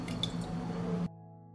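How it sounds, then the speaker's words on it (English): Water runs into a cooking pot, a liter poured for a pickling brine, a steady close splashing stream that stops abruptly partway through, leaving quiet. "I pour a liter of water into the pot."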